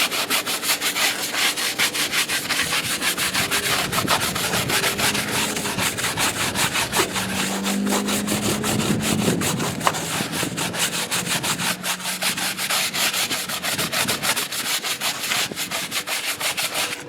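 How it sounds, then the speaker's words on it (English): A Tough and Shine brush scrubs a grimy tire and wheel coated in Super Clean foaming cleaner, giving a loud, steady, close-up bristly rubbing that runs without a break. "now let me go in there and agitate with my brush, with my Tough and Shine brush, and clean this wheel like I would any other tire"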